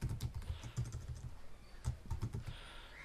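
Typing on a computer keyboard, a quick run of close key taps and clacks over about three seconds, alone with no voices.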